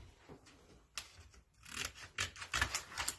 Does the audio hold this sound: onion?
no